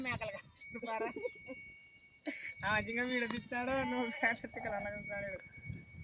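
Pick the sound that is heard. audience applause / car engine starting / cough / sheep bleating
sheep bleating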